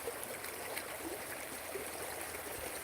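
Water from an overflowing flooded creek rushes steadily, a broad, even hiss of flowing water heard at moderate distance without a break.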